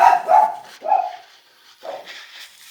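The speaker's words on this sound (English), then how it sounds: "my dog starts barking" A dog barks three or four times nearby, loud, sharp yaps spaced unevenly with brief pauses.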